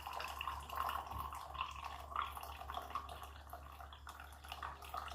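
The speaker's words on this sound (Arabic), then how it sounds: "غادي نحاول نحيد هذا الماء الاول، غادي نحتفظ به." Water being poured out of a clear glass, a faint, steady trickle and splash over a low background hum, heard close with no voices.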